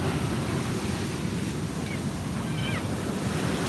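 Steady roar of surf breaking and washing in, loud and continuous, with wind buffeting the microphone throughout.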